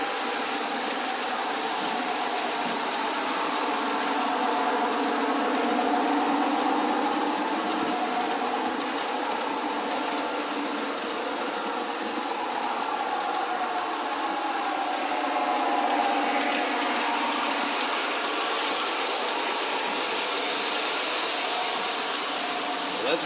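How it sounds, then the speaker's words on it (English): A model train runs around a layout, giving a steady, even whirring hum from its small motor and wheels that holds at the same level throughout, with no clear pauses. "Let's watch a train from this perspective over here that comes back around again."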